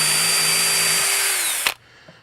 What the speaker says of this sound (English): So I'm just gonna pre-drill a hole